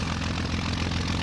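Propeller engine of a Messerschmitt Bf-109E in Flight Simulator X, a loud, steady droning roar heard close and alone for a brief moment.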